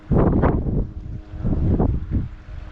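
Gusty wind buffeting the microphone on the North Wales coast during a tope fishing trip, coming in three loud rumbling bursts with brief lulls between them, with no voices.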